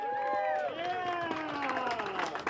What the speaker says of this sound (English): Let's give a round of applause to our chef, Danny Lee, here.